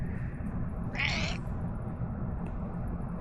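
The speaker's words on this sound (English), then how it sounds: "She has a terrible sounding meow." An outdoor cat gives a single short, rough, strained meow over steady background noise.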